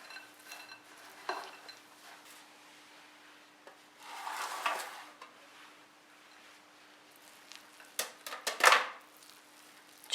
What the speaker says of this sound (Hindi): अब इन सब चीज़ों को अच्छी तरह से मिक्स करेंगे।